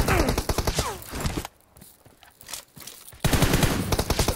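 Rapid automatic gunfire in PUBG Mobile during a one-on-one team deathmatch: dense, loud bursts at the start, a short quieter gap, then another long burst.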